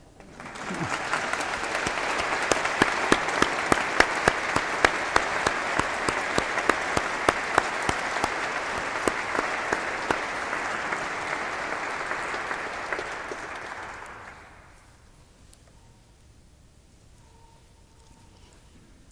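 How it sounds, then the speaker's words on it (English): Congregation applause in a parish church after the clergy are recognized, a full, sustained round of clapping with sharp individual claps standing out, lasting about fourteen seconds before fading quickly into quiet room tone. "Now you may applaud."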